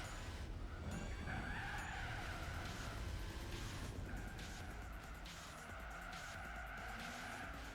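A Corvette Z06 C5 V8 with a semi-racing muffler in Gran Turismo 4 roars steadily at high revs, the engine tone climbing and dipping through gear changes with tire squeal, loud and continuous without speech.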